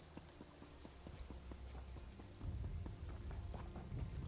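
Horse hooves in the Elder Scrolls Online game, Morrowind setting, a faint, fairly regular clopping gait running under a soft background bed of ambient game sound.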